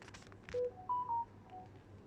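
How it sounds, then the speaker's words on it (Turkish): Telephone tones sound as a short sequence of three electronic beeps, the first lower and the next two higher and close together, over soft background noise after a brief voice. "Telefondu."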